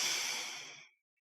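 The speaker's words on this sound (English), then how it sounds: "So take a deep breath." A deep breath, drawn as a steady airy rush that fades out over about a second, heard alone and close with no talking.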